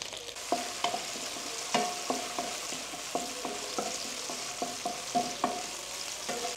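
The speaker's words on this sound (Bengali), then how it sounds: "তারপর আমি ইনোকি মাশরুমগুলো দিচ্ছি।" Enoki mushrooms sauté in a hot pan for restaurant-style pasta, a steady sizzle broken by repeated sharp stirring scrapes and clinks of a utensil against the pan, close and clear with no talking.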